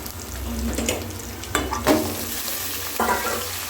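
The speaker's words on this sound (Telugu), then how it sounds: "చికెన్ వేసుకొని కలుపుకోవాలి చికెన్ గట్టిగా అయ్యేంత వరకు ఫ్రై చేసుకోవాలి" Chicken fries with ginger and turmeric in a pan, a constant sizzle broken by several scraping, clattering bursts as it is stirred.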